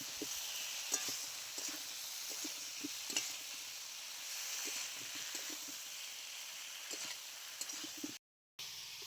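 Eggplant frying with potatoes and drumstick pieces in a pan gives a soft, steady sizzle with repeated light stirring taps and scrapes, then a brief cut to silence near the end.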